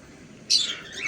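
A caged pet bird gives a single short, sharp call, close and fairly loud against a quiet background, alone with no talking.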